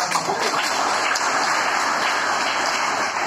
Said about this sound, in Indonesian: Kalian tadi baru tepuk tangan.